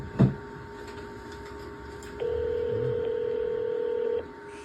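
An unanswered telephone call rings on the line: a click, then a single steady electronic ring tone lasting about two seconds before it cuts off.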